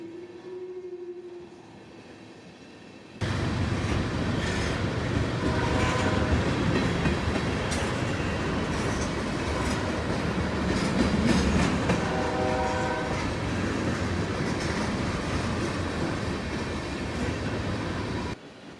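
A CSX freight train rumbles steadily past close by in Central Florida, its wheels clacking rhythmically on the rails for a long stretch after a quiet start.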